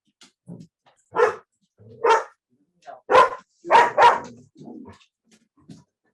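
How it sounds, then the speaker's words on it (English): A dog barks repeatedly at another dog out front, sharp close barks in bursts with short whines between them. "he senses there's another dog out front"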